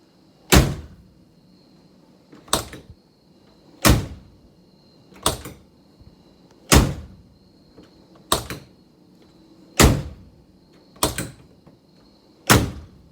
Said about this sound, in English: if I shut the door,